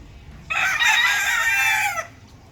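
A gamefowl broodstag rooster of a red and Mt. Banahaw line gives one loud, close crow lasting about a second and a half, strong and bright, against a quiet backdrop.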